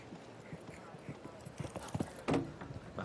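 A show jumper's horse canters and lands over fences at the 2015 Aachen team jumping event, giving steady, close clip-clop hoofbeats with a heavier thud near the end while a commentator talks over the arena noise.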